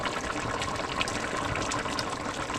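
Jamaican curried chicken with pimento seeds simmers in a pot, giving a steady, close bubbling and gurgling wash of liquid with no voices.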